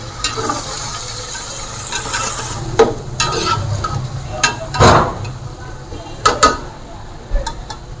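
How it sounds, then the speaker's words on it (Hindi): Yogurt is worked into mutton biryani masala in a pot: a low frying hiss runs under repeated clattering, scraping stirs of a spoon, some loud and close, with a few ticking knocks. "दही डाल देते हैं 2 से 3 चम्मच। इसको चला लेते हैं।"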